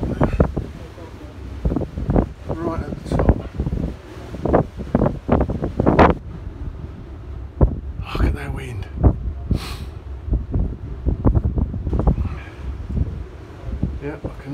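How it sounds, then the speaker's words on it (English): Wind gusts across the top of Grain Battery Tower, a sea fort above open water, buffeting the microphone in loud, uneven rumbling bursts while people talk close by. "Oh, look at that wind."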